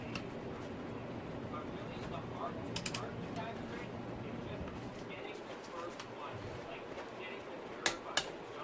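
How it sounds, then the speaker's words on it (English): A torque wrench tightens bolts on a Yamaha YZ450F engine during a full motor rebuild. A few sharp mechanical clicks come close together near the three-second mark and again near the end, over a quiet workshop background. "got the torque wrench set to 58 now"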